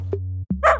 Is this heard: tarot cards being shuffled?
no